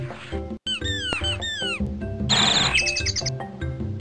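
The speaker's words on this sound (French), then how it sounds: "Ah, il y a un oiseau." A cartoon bird chirps in the Putt-Putt Travels Through Time video game, giving several quick rising and falling tweets close up, followed by a short burst of noise and more rapid twittering over game music.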